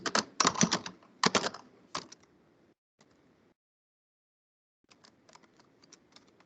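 Bursts of rapid typing on a computer keyboard, a dense flurry of key clicks at the start, a pause, then lighter scattered keystrokes near the end, close and alone.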